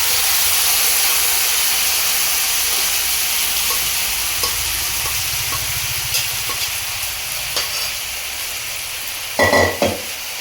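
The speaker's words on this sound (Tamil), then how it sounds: "அந்த வெங்காயம் எல்லாமே இதை ஒன்றோட ஒன்று கலக்கிற மாதிரி லைட்டாக கிளறி விட்டுக்கலாம்" Boiled mutton being stirred into fried onions in a pan for Tamil mutton uppu kari, a steady sizzling hiss with soft scraping stirs, ending in a louder burst of clattering stirs near the end; no talking.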